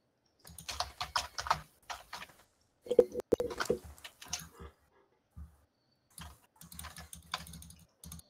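Keyboard typing in a gaming session: bursts of clicky keystrokes in short irregular runs with pauses between them, close and moderately quiet, with no talking.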